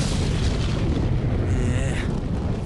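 Deep thunder rumbling through a Spider-Man video game scene, a loud, sustained low boom that fills the whole stretch with dense noise and no clear pauses.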